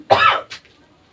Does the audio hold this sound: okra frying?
no